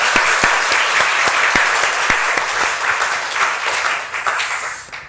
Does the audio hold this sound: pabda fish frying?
no